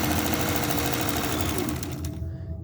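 A Kenmore 1813 sewing machine runs a 2mm wide zigzag stitch, a steady, close mechanical whir with rapid rhythmic needle clatter that continues throughout and eases slightly near the end.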